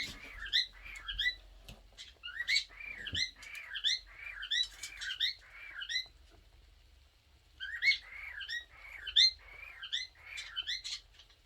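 Pet cockatiels chirp and tweet in quick repeated bursts indoors, a busy run of calls, a short pause, then more chirping, fairly near and with no talk.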